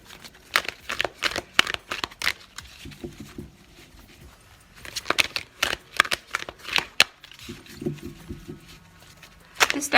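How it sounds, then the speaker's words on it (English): A large oracle card deck is shuffled up close in quick, papery bursts of riffling and slapping, coming in clustered runs with short pauses between them. "This deck is very big, so it looks kind of crazy when I shuffle it"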